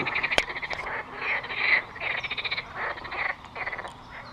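A chorus of frogs at a pond croaking steadily in rapid pulsing trills, fairly close and loud, with faint outdoor background noise and no talking.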